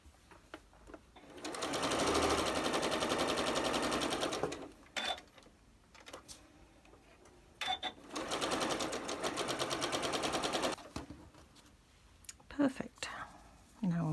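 A sewing machine stitches quilt block pieces in two sustained bursts of rapid, even whirring, with quiet pauses between them filled by faint handling clicks and soft movement.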